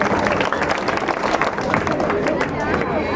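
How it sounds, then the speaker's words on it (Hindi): An audience at a school's inauguration ceremony claps in a dense, steady wash of applause mixed with crowd murmur, sustained and moderately loud throughout. "एक बार फिर से तालियां।"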